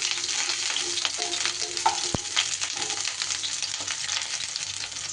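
Cauliflower fries in a pan with a little salt, giving a steady close sizzle with a few scraping stir sounds and one sharp clink of a utensil.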